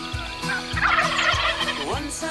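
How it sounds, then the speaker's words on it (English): Rio Grande wild turkeys gobbling in Texas, several bursts of rapid rattling gobbles at close to moderate distance, overlapping one another with low thumps in between. "Rio Grande turkeys are creatures of habit."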